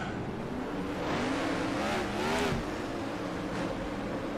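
Racing car engine from a short track racing video game's sound pack, revving and climbing in pitch, then easing off as the car passes, heard alone at moderate loudness.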